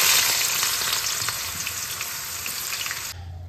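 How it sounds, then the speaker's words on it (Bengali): Bitter gourd pieces with salt and turmeric sizzle loudly and steadily in hot oil, with light stirring, before the sound cuts off abruptly near the end. "নুন হলুদ দিয়ে উচ্ছে ভেজে দিচ্ছি।"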